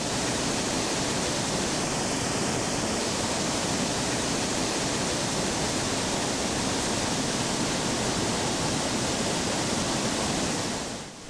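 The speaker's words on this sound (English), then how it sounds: "foam mixing with sticks and twigs, polishing the quartzite as it crashes and tumbles down its course to the desert floor" Muddy brown Christopher Creek crashes and tumbles down a quartzite canyon over waterfalls, carrying foam, sticks and twigs. A loud, steady, unbroken roar of rushing water fills the whole span with no voices.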